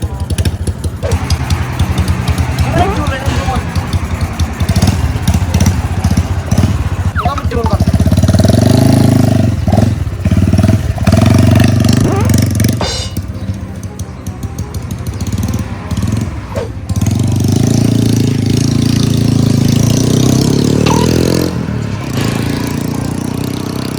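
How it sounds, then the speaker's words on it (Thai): A motorcycle with a newly fitted exhaust pipe idles with a steady low rumble and occasional revs, loud and close, with voices talking over it. "ลองดูครับผมสตาร์ทรถดูฟังเสียงกันนะ"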